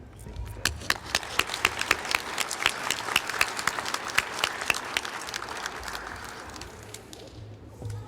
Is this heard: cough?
no